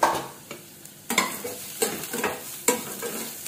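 Onion and vegetable mixture being sautéed in a pan with a spatula, giving soft sizzling under a few distinct stirring scrapes spaced through the stretch, close and moderate in volume with no talking.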